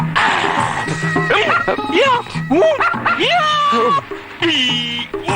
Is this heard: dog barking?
yes